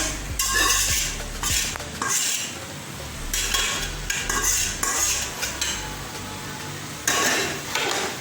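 A spoon scrapes and clanks against a pot while rice with buttermilk is mixed, producing repeated bursts of scraping and metallic knocks over a low background sizzle, without speech.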